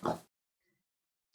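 One short, loud pig grunt, close up, followed by near silence.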